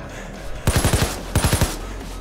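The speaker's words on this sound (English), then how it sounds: "Try shooting at the wires!" Two quick bursts of gunfire in the video game PayDay 2, shots aimed at wires, each a tight rapid string of four or five loud cracks with a pause between bursts, no talk over them.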